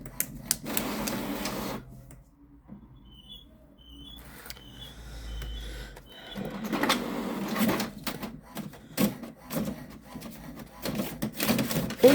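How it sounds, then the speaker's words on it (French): An office printer jams on paper, giving off short, irregular bursts of mechanical clatter and whirring separated by quieter pauses, fairly faint overall. "on a un petit souci avec l'imprimante. Fait du bourrage papier."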